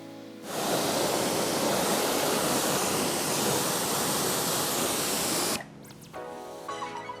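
Steady loud spray from a hose rinsing wheel cleaner off car wheels, a broadband hiss running about five seconds before cutting off, followed by quieter drips and clatter.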